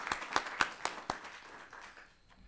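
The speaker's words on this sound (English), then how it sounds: "let's give a round of applause for Cameron" An audience at a transportation design presentation claps briefly, a thin scattering of distinct hand claps that quickly fades, fairly faint and heard alone.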